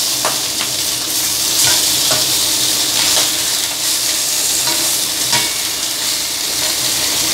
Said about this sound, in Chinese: 然後將冇咁金黃色嗰啲咧就再反轉再煎一陣。